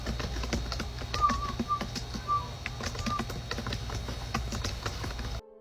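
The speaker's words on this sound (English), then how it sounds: "You can hear the clicking of the keyboard" Light clicks of a laptop keyboard being typed on in a bedroom, scattered irregular taps close by over a low steady hum, with a few faint whistle-like tones in the background.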